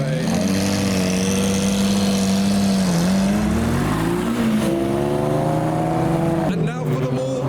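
A Lamborghini Miura cruises along a public highway, its engine giving a loud, steady droning note with rich harmonics that rise and dip gently as the car holds speed, close and continuous throughout.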